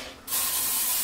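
An aerosol can of hairspray releases a single sudden hissing burst that starts after a short quiet moment and continues steadily and close until the end.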